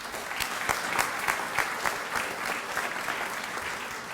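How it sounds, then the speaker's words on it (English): An audience claps steadily for Senator Sheldon Whitehouse at a law school keynote event, a dense, even round of applause with scattered louder claps that holds its level throughout without voices. "please join me in extending a warm round of applause for Senator Whitehouse"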